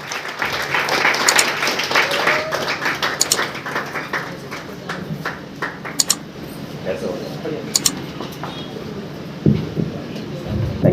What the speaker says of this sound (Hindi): जोरदार तालियों के साथ सर का स्वागत